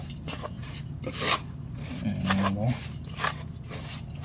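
Coconut wheat biscuit dough is mixed by hand with soft repeated rubbing and rasping strokes, close up, and a voice speaks briefly over it.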